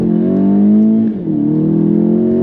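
A Cupra track car with sport mode and traction control set accelerates hard, its engine note rising steadily loud and close, dipping briefly as it shifts gear before climbing again.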